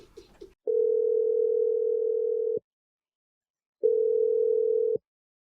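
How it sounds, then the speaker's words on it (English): A steady telephone tone sounds twice during a radio-show call, first for about two seconds and then for about one second after a pause, loud and alone after a brief bit of noise at the start. "I'm going to dial his phone number right now."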